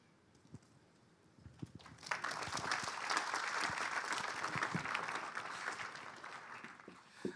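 Audience at a book launch breaks into a round of applause, quiet room sounds first, then sustained clapping from many hands building and holding steady, fairly close.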